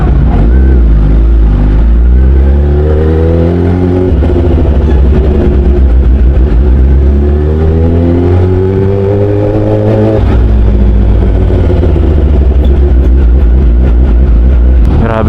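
Road traffic rumbles around a rider on a Kawasaki ZX-10R sport bike, whose engine dominates, loud and close, its revs swelling and dropping over steady wind roar.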